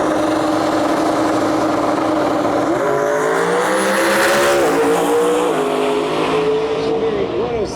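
Loud, sustained engine drone of a Ford GT500 on a drag racing pass, pitch climbing and stepping through gear changes while crowd and track noise fill the background.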